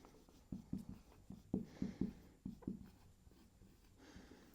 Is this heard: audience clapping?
no